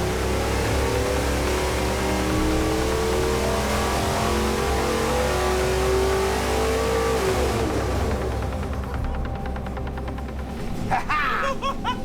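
A powerful high-performance car engine on a dyno roars steadily at high revs around 6,000 RPM, sustained and loud, then the pitch drops and it winds down with a few pops and rattles.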